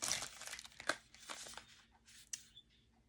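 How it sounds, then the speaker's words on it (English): Plastic packaging around a pair of slippers crinkles and tears in close, irregular bursts, with sharp rustles and pauses between handfuls. "That's why I'm unwrapping all these."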